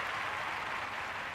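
Crowd in the London 2012 video game cheering and applauding: a steady dense wash of noise with no breaks, moderately loud.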